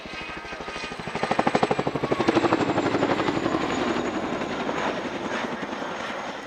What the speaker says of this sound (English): The RAF is the largest foreign operator of the Chinook, and the bulk of the fleet is made up of HC6A aircraft like this one.